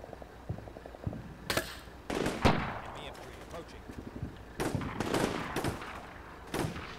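Infantry rifle fire aimed at a tank in a military video game, heard as several sharp, moderately loud shots in irregular bursts, with quieter background rumble between them.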